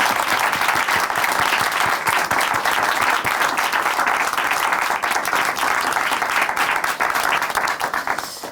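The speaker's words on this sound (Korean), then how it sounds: "감사의 박수 함께 드릴까요?" A studio audience at a Korean church broadcast gives a steady, dense round of applause that stays loud and even throughout.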